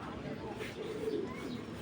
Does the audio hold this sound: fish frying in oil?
no